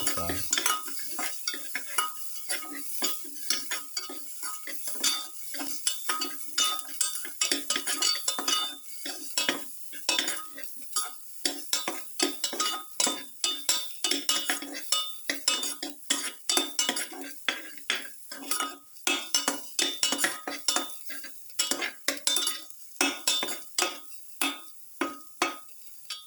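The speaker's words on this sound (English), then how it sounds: "Keep on sauteing." Garlic sauteing in a pan for a pepper beef cashew stew, with a long run of close, busy scraping and clinking as a utensil stirs against the metal, a light sizzle underneath, no talking.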